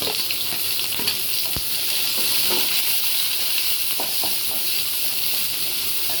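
Green chillies, small shallots and curry leaves sizzle loudly in hot oil, a constant bright crackle with occasional stirring clinks.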